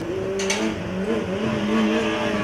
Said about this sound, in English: Taking off with a fair amount of wheel spin.